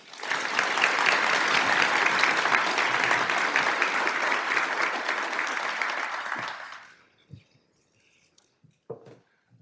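Audience applause welcoming a speaker at a Black History Month celebration of Dr. Martin Luther King Jr.: steady, full clapping from a crowd for about six seconds, then it tapers off quickly into near silence with a few faint stray sounds.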